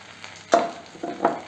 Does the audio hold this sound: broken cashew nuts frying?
yes